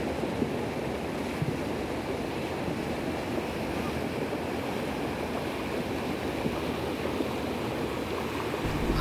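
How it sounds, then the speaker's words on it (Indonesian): Fast, heavy river current during a flash flood in Aceh Tenggara, the torrent carrying rocks, mud and trees, a steady broadband roar of rushing water with wind buffeting the microphone throughout. "Ini arus sungainya sangat deras, meskipun dalam kondisi normal pun sangat deras, apalagi dalam kondisi banjir bandang"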